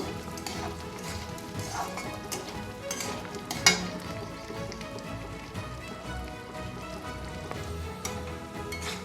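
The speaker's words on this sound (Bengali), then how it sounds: "ডালটাকে একটু নাড়িয়ে চাড়িয়ে একটু সুন্দর করে ভেজে নেব হালকা।" Mung dal is lightly fried and stirred in a pan for a Bengali bottle-gourd dal, a faint, even sizzle with soft, irregular stirring scrapes and one sharper clink, accompanied by quiet background music.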